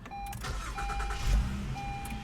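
A 2017 Acura RDX 3.5-litre V6 engine cranks and catches after a push-button start, settling into a low idle rumble, with a faint electronic chime tone sounding intermittently over it.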